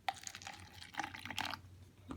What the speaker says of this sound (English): Let's see, I pour a little bit here